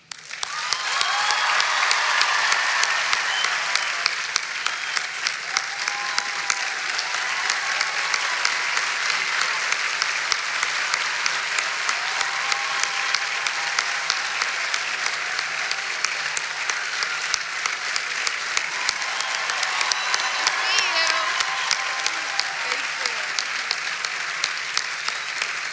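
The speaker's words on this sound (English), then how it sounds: "Let's give her one more Wolfpack round of applause." Audience applauds an astronaut at a university welcome home celebration, a large crowd clapping loudly and steadily for a long stretch with no talking over it.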